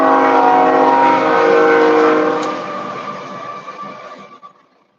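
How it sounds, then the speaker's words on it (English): A train passes close by with a loud, sustained rumble and layered tonal horn-like drones, holding steady for about two seconds before fading away over the next few seconds; no one speaks. "Train."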